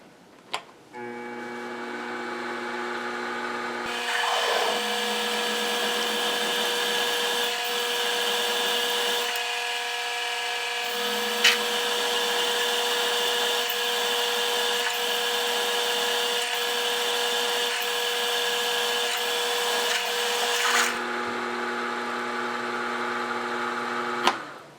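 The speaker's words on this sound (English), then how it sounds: "this is a fairly new drill, but it's not a very tidy cut at the beginning" A fairly new drill cuts a pivot hole in a mill table stop on a milling machine. The steady whine comes up to speed after a few seconds and holds for most of the clip, then winds down near the end.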